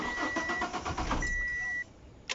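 A car engine cranks and tries to start after a GPS remote engine kill, giving a rough, uneven churning for about a second and a half, then a steady electronic tone before it drops quiet.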